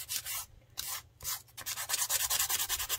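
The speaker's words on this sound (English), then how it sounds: "I'm sorry if this sanding noise bothers you" Close, scratchy sanding strokes on a book page with a couple of short pauses, then a quicker steady rhythm of rubbing.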